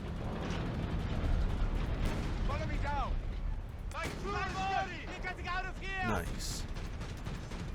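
A Panzer III tank in the video game Company of Heroes 3 fires repeatedly: heavy booms and mechanical clanks under a busy battle din, with a voice speaking briefly over it.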